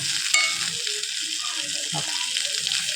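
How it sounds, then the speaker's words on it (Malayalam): Dried fish fries in hot oil with garlic and green chili in a home kitchen, a steady close crackling sizzle running throughout, with faint stirring clinks and occasional soft background voice. "ഞാൻ ഉണക്കമീൻ ഉണ്ടായിരുന്നു കേട്ടോ അതൊന്ന് വറുത്തെടുക്കായിരിക്കും"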